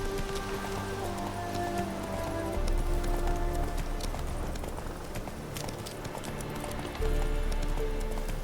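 Roach, the horse in The Witcher 3, galloping with steady rhythmic hoof clops that run the whole time under a sustained musical bed, with a faint whinny-like tone and what sounds like rain in the background.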